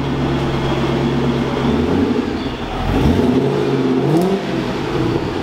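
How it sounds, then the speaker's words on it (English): A supercharged V8 in a Panoz Esperante GTLM, a carbon-fiber American supercar with center-exit exhaust, idles loudly up close, then swells into a short rev and eases back, with a supercharger whine over the deep rumble. "Dude, give it a little rev. Like, wow. This thing is cool. You can hear the supercharger."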